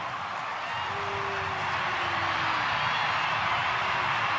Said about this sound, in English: The crowd in Townsville celebrate